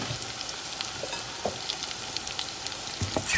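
Plantain bananas frying in a pan, a continuous close sizzle with scattered small crackles and occasional stirring clicks, moderately quiet and with no one talking.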